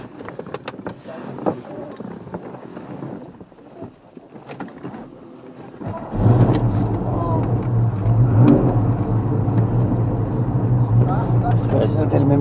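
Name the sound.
car engine revving on race track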